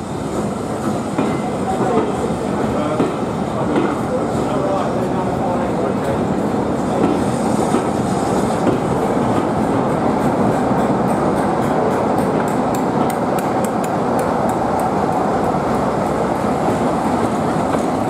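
The train hauled by the Britannia Pacific steam locomotive Oliver Cromwell rolls steadily along the rails with a continuous rumble and clickety-clack from the wheels, loud and close, ending in faint high squeals.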